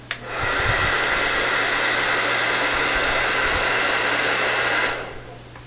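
A hair dryer blows in a steady, loud whoosh for about five seconds while heating a laptop, then switches off and fades.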